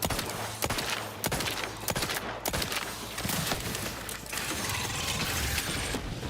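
Rapid gunfire from a sci-fi shooter game in The Outer Worlds 2, dense overlapping bursts and clanking mechanical weapon sounds running continuously at moderate level with no talk.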